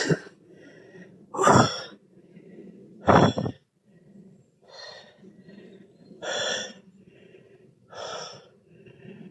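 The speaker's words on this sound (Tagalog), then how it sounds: "Hingal." A hiker climbing a steep uphill trail pants heavily, with about seven loud, close gasping breaths spaced a second or two apart and faint rustling between them.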